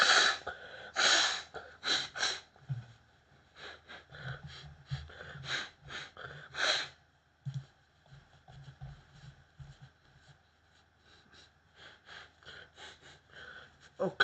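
Several sharp, breathy nasal blasts in quick bursts, close and loud, followed by quieter sniffing and shuffling with a low voice murmuring.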